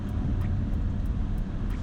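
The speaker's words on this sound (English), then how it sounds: "The engine noise, I don't know if you can hear it." Low, steady engine drone of a 2025 BMW X5 M60 in sport mode, heard from inside the cabin; a continuous even hum with faint periodic ticks, no talking.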